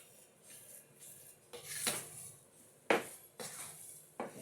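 Sticky rice turon mixture being stirred and mashed in a pan, with soft scraping and several sharper clinks of utensil against metal scattered through, fairly quiet and close with no talking.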